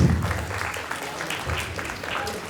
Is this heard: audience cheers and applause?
yes